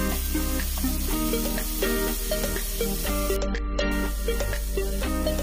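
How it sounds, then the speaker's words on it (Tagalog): Tomato, onion and lemongrass sizzle in a hot pan for a vegetable coconut dish, a loud continuous fry with steady crackle and repeated stirring scrapes, no voices. "Isunod natin yung kamatis at sibuyas. Halo-haluin lang natin at ilagay natin ang tanglad."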